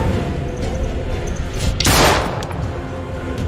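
Gunshots in the horror game Little Hope over a steady noisy background, with one sharp loud blast near the middle standing out from fainter scattered cracks.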